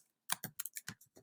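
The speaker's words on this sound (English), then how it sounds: "I'm going to come here and I'm going to type in my new sentence." Typing on a computer keyboard, a quick run of separate crisp key clicks at an uneven rhythm, close and fairly quiet, with no one talking.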